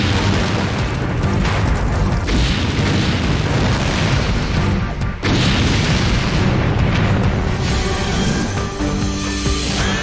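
A huge industrial fire burns at a plastics plant in Santiago, Chile, where hundreds of tons of PVC plastic and volatile chemicals are ablaze. It makes a loud, continuous roar with a deep rumble and scattered bursts.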